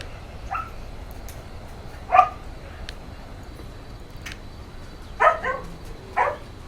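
Dogs bark in a few short, sharp bursts at a distance, spaced several seconds apart, with a quieter yip among them over a low steady background hum.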